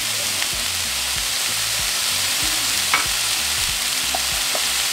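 Ground beef cooking in a pan with onion and tomato, a loud, even sizzle running throughout, with a few light clinks and scrapes from a utensil.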